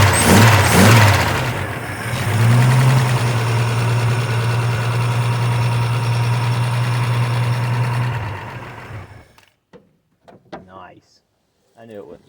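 A 1988 Jeep Wrangler Laredo engine running after sitting, a rough rumble settling into a steady idle for several seconds before shutting off, followed by someone talking in the quiet.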